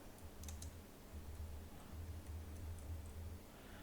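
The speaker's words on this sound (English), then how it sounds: "I want you to type in party" Light keyboard typing as search text is entered, a few soft clicking keystrokes, faint and close over a low steady hum, with no speech.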